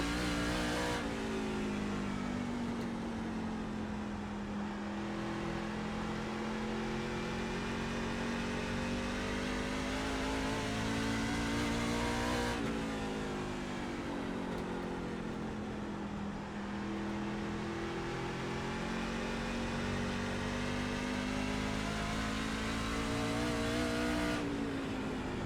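NASCAR trucks racing on the Lucas Oil IRP oval in the iRacing sim, engines droning loud and continuous with pitch rising and falling through laps, a pack of trucks audible throughout.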